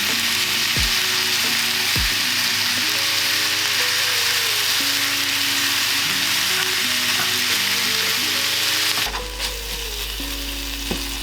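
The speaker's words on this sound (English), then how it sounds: "I've had to constantly try and break this up the whole time it's been frying" Vegan beef mince fries in a pan with a loud, steady sizzle and crackle, joined by a constant tonal hum that cuts out near the end, with no talking.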